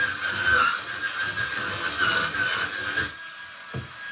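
A seven-head motorized scrub brush on a wand whirs and scrubs steadily at close range, a continuous buzzy grinding with a high whine, easing off near the end with a brief knock.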